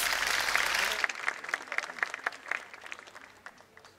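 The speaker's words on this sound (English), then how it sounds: "Can we have a big round of applause for our students?" An audience at a school Founder's Day event applauds the students, dense clapping for about a second before thinning to scattered claps that fade out.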